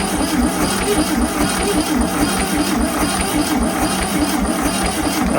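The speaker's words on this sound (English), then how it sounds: "we can dump some gas down the carb and just turn it over and see what happens" A 1971 VW Super Beetle engine turns over after gas is poured down the carburetor, making a loud, steady mechanical churn that runs without a break, close by.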